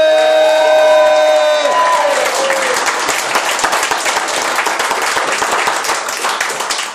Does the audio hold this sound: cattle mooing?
no